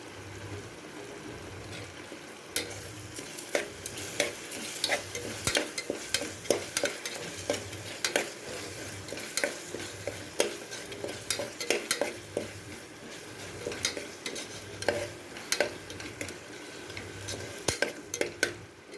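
Tomatoes sauté in a pan for mutton biryani, sizzling steadily under frequent clinking, scraping strokes of a spoon stirring against the metal.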